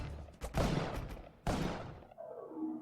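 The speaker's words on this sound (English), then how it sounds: "The explosion destroys the webs." Bomb explosions in the Spelunky video game blowing apart spider webs, two loud broadband bursts in quick succession followed by a fading, lower rumbling tail.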